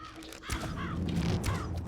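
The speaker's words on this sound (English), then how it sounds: "We got one more crow" A crow caws in the Trickster VR video game: a couple of harsh, rasping calls heard under noisy, busy game sounds.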